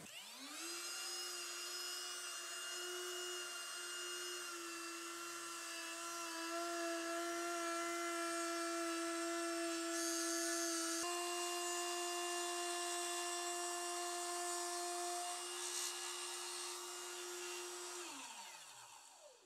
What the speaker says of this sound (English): When the router gets to full RPM, then you're starting to make the cut itself.